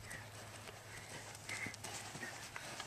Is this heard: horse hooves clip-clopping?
yes